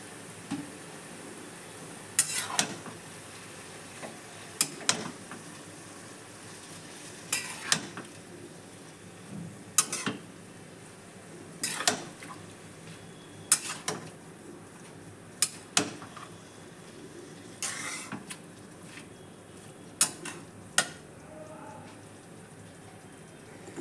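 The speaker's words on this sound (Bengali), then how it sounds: "লবণ হলুদ যেন মিশে যায়, একটু নাড়াচাড়া করে ঢেকে দিব।" Cabbage stirred in a pan after salt and turmeric are added, a spoon scraping and clacking against the metal in spaced sharp strokes over a quiet frying sizzle.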